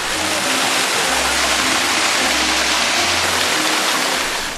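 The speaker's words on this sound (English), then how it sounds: "They are covered by a waterfall commonly known as the natural shower." Waterfall known as the natural shower pouring over the Emiru Caves near Fort Portal, a loud, constant broadband rush of falling water close by.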